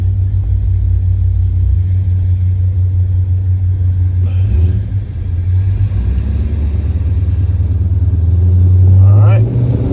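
Deep, loud rumble of a 1967 Pontiac GTO V8 idling and revving, its low engine drone swelling toward the end, with someone talking over it.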